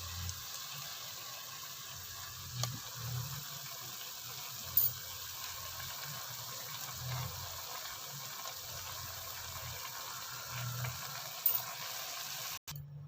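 A paste of spinach, mint, coriander, yogurt and green chillies fries in a pan for a green chicken gravy, making a soft, steady hiss with occasional dull low bumps, fairly quiet and alone.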